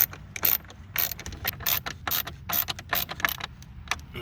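Screws are tightened by hand into the plastic front grille of a 2015 Subaru WRX, giving a close, steady run of rapid ratcheting clicks and mechanical ticks with no talking.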